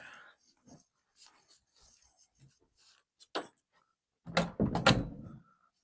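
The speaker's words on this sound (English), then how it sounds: "let me go close my door" An indoor room door being shut: soft shuffling and small movement noises, then a cluster of loud close thumps and rattles as the door closes and latches.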